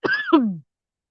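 One short, close cough that sounds throaty and hoarse, a double burst from a sore throat, followed by silence.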